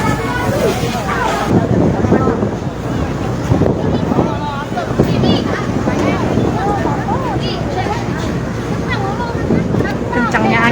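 Strong wind roars and buffets across the whole stretch at a shophouse fire, a dense, continuous rush with gusty swells, under a person talking.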